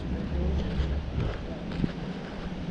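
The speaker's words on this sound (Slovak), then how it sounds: "Vietor tu furt pofúkuje, to je klasika." Steady wind buffeting the microphone outdoors on a hot day, a continuous low rumbling roar with gusty swells that runs through the whole stretch without pause.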